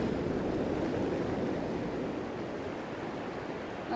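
Ocean waves wash against the shore under a westerly wind, a constant broadband roar that holds steady throughout without distinct breaks, with no voices present.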